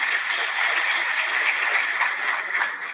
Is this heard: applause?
yes